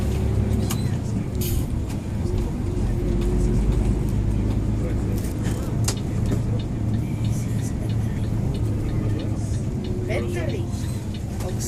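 A bus drives through a Länsimetro metro tunnel. Its steady, loud engine and road rumble fill the space continuously, while people talk over it throughout.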